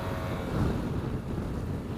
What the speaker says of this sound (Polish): fajny duży skuter rewela musi być świetny do pojeżdżenia turystycznego